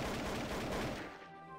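In the shooter game Trouble in Terrorist Town, a rapid burst of gunfire crackles loud and close, a dense run of shots that thins out toward the end.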